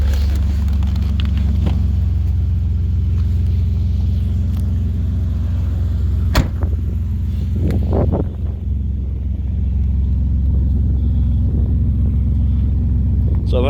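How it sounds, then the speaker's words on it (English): A Nissan Skyline R33 GTS coupe's engine idles with a steady low rumble, loud and close, with some wind noise and a brief clunk partway through. "it's got a pretty nice idle"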